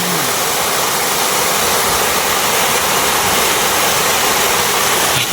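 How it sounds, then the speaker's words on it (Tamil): Masila waterfall in the Kolli hills, heard from near its top: a loud, continuous broadband roar of falling water, steady and close throughout with no voices. "இந்த மாசிலா அருவியோட மேலே உச்சி பகுதியில் தான் நம்ம இருக்கோம்"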